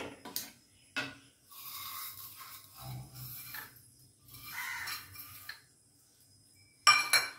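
Kheer being spooned into a bowl, with scattered metal and glass clinks and scraping of spoon against dish, brief bursts separated by quiet gaps and a sharper clatter near the end.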